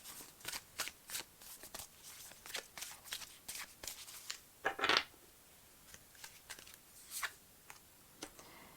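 Tarot cards are shuffled and drawn from a deck in a quiet room: a run of crisp riffling slaps and flicks, with one louder rustle midway, close and alone.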